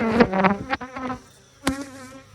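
Honeybees buzz at an open hive as a frame of comb is lifted, a close, droning hum that swells and fades in short surges with a sharp burst near the end.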